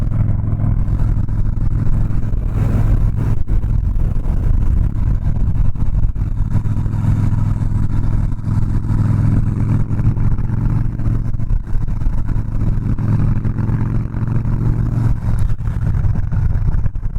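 A Harley-Davidson Softail Slim with a 103ci engine accelerates on the road, a loud, steady low engine rumble mixed with wind roar, with no talking over it.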